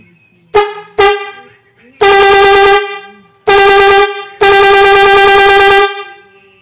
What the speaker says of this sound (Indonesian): Modul putus, klakson putus-putusnya.